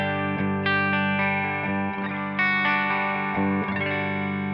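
Electric guitar played through a Tonex tone model of a Matchless Chieftain amp and Celestion G12H75 1x12 combo, low input, neck pickup: chimy sustained chords with slight breakup and reverb, several strums ringing out, no talking.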